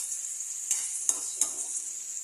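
Mackerel with tomato and onion sautéing in a pan, a steady hiss of sizzling with three short scrapes of a spoon stirring, close and alone with no talk.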